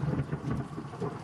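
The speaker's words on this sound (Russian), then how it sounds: "даже раскаты грома здесь кажутся и воспринимаются как залпы артиллерии" Rolling thunder during rain at a hillside fortification: a deep, continuous rumble under steady rain pattering on surfaces, fairly loud and with no voices.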